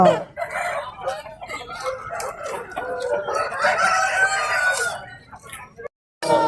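Roosters crow in a busy rooster market held for the Thai Pongal festival, several long close crows overlapping with clucking and people talking in the background.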